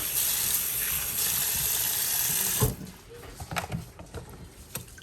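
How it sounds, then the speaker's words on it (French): Cold tap water pours over boiled potatoes in a colander, a steady loud rush that stops abruptly partway, followed by quieter drips and clatter. "je veux maintenant mettre de l'eau froide pour refroidir ça un tout petit peu"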